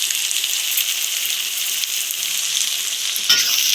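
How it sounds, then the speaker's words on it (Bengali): Sliced onions fry in hot oil with food colouring, becoming crisp birista for topping biryani: a loud, steady, close sizzle runs throughout, with a brief clatter of stirring near the end. "পেঁয়াজ ভাজে দিয়ে দেওয়া হয়েছে।"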